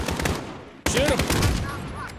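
Gunfire in Call of Duty: Modern Warfare comes as a rapid burst of shots, then a sudden loud crack followed by more rattling shots nearby, with a voice briefly calling out.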